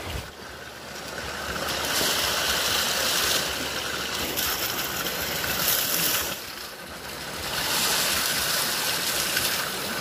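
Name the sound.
river water flowing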